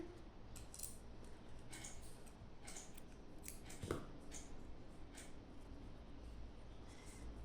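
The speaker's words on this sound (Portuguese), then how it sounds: "Vou cortar aqui a linha." Scissors snipping crochet yarn while making an amigurumi frog, a series of faint, crisp little clicks and snips close by against a quiet room hiss.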